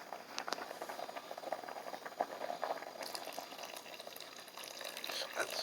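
Beans and garlic boiling in water in a pot, a faint steady bubbling simmer with soft irregular pops throughout, heard close and quiet with talk at times.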